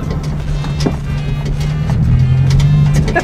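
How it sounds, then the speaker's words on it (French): A small child's race car accelerating, its motor giving a steady, droning whine that rises slightly in pitch, close and continuous throughout. "J'appuie sur la jambe pour accélérer."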